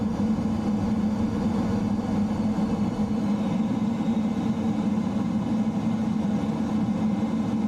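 F-15 jet engine in Microsoft Flight Simulator 2020, a loud, unbroken low roar and hum heard from the cockpit, steady and close for the whole stretch with no voices.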